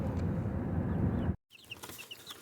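Easter egger and olive egger hens cluck and chirp softly in short high calls after a loud burst of rushing noise breaks off, the birds faint and close.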